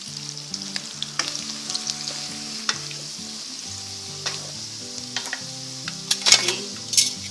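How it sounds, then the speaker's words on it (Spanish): Chopped onion sizzling in a pan of rendered bacon and longaniza fat, a bright continuous close frying hiss with light stirring scrapes and a couple of louder spatters near the end. "agregamos la cebolla, también podemos retirar un poco de su grasa."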